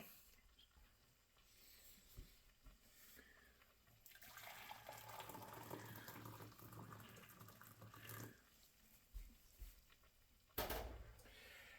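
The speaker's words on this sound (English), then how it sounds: "I use hot water right from the kettle" Hot water pours steadily from a kettle into a pot for about four seconds, a continuous splashing flow that stops abruptly, with quieter handling noises before and after.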